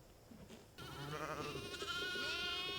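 Sheep bleating on a grazing pasture fenced with electric netting, several drawn-out calls overlapping after a quieter start, fairly close and steady with no talk.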